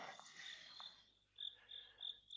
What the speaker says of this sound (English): Is that crickets in the background there?